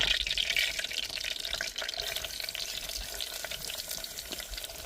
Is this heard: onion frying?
yes